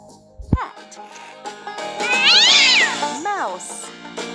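A cartoon cat in the Lingokids stacking farm animals game gives a loud, drawn-out rising and falling meow, preceded by a short game sound, with a voice speaking around it.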